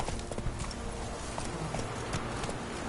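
Horse hooves clip-clopping at a steady trot in The Witcher 3 video game, continuous rhythmic beats with a faint snort, played back over ambient game sound.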